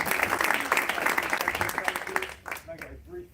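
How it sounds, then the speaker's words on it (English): Audience applause at a multicultural apprenticeship awards ceremony, dense clapping that fills the first two and a half seconds before thinning out, with voices audible underneath. "So can we have a huge round of applause for Josie?"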